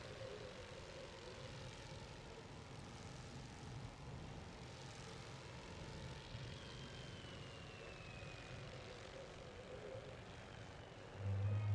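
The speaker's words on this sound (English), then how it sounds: "But the bombers are doing pretty decent." Bomber aircraft engines in The Great War Western Front, a steady low propeller drone that stays faint and distant, with a slight swell at the very end.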